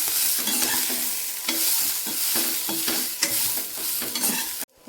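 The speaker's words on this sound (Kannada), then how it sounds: "ಅದಕ್ಕೆ ಎಣ್ಣೆ ಹಾಕಿ ಚೆನ್ನಾಗಿ ಫ್ರೈ ಮಾಡ್ಕೋಬೇಕು." Boiled cluster beans fry in oil, a close, steady sizzle with frequent scraping strokes of a spoon stirring them in the pan, no voices, and a sudden cut near the end.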